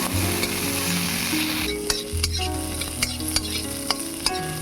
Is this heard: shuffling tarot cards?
no